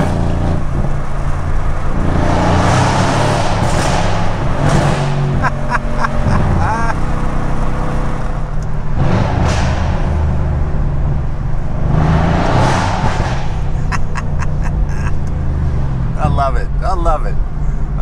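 A Mercedes C63 AMG's engine and exhaust boom and echo through an underpass, close and loud, with swelling revs and crackling bursts from the exhaust, while someone talks over parts of it.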